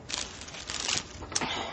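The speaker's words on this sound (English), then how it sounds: "you're going to hear some rustling around because I'm making a wreath" Craft materials rustle and crinkle up close while a wreath is being made, soft irregular crackling and crumpling bursts with no talk.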